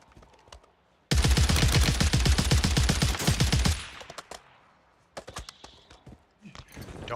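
Sustained rapid automatic gunfire in a shooter video game, loud and close for about three seconds, then scattered single shots and short bursts trailing off.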